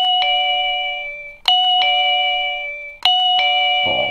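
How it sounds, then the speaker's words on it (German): Wireless doorbell chime for a front door set at loud volume, ringing a clear repeating two-tone ding-dong melody three times in succession, bright and close, with a faint rustle at the end and no talk. "Hier kann man die Klingel laut und leise machen."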